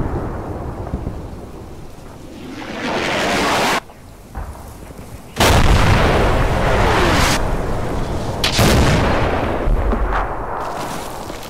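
Massed artillery fire from 110 artillery pieces in the game Planetary Bombardment, heavy rolling booms and rumbling blasts that swell in big loud waves with short lulls between, no voices.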